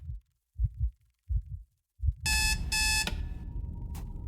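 Alarm clock in the motel horror video game Come Back In One Hour, a loud, harsh electronic ringing in two quick bursts, then a short final blip, following a few soft low thumps like footsteps.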